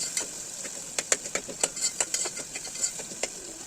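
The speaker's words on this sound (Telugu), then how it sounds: "టమాటా కూడా బాగా ఉడికేంత వరకు కుక్ చేసుకోవాలండి" Tomatoes for pav bhaji cook down in a pan, giving a quiet, steady bubbling sizzle with scattered soft pops and spatula taps, close and alone.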